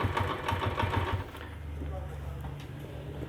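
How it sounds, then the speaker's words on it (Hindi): A Honda CD 70 motorcycle engine starts with a run of rapid, chugging low thumps, then settles into a steady, close, throbbing idle. "पहले ये मोटरसाइकिल स्टार्ट कर लूँ। थोड़ी रेस इसकी ज़्यादा कर रहा हूँ ताकि बंद ना हो।"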